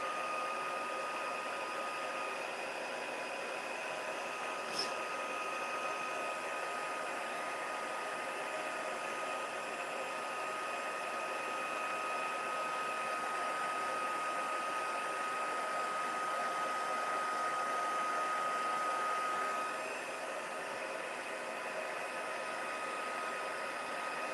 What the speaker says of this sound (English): now we're going to just heat emboss on a little copper